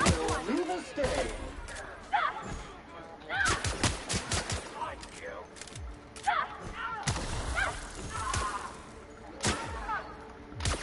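Gunfire from a sci-fi shooter game, The Outer Worlds: repeated sharp shots and short automatic bursts crack out irregularly over about ten seconds, with a voice speaking between volleys.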